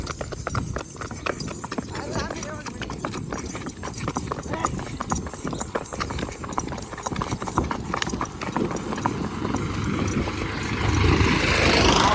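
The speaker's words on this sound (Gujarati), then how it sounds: "ધીમે ધીમે આકે છે આપણી ઘોડી અત્યારે" A mare walks slowly, her hooves clip-clopping in a steady rhythm for the whole stretch, while someone talks over the sound.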